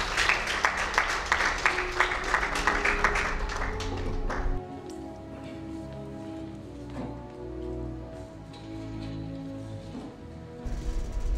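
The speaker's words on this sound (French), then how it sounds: "que je vous prie d'applaudir" An audience at a French oratory contest ceremony claps in a dense burst for about four seconds, then the hall drops to a quieter room tone with only scattered faint sounds.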